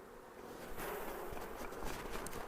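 Honeybees buzz as they are shaken off beehive frames, a faint, dense swarm hum with light rustling and knocking underneath, steady across a couple of seconds with no voices.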